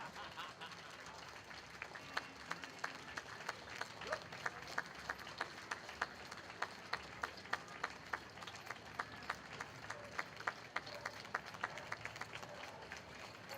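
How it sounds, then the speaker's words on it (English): A parade crowd gives veterans a standing ovation, sustained applause from many hands in the open air with sharper individual claps, faint and steady throughout. "We see the crowd rising and clapping to honor all of our veterans today."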